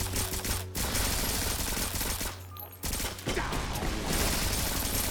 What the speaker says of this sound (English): that sounded like a riot shotgun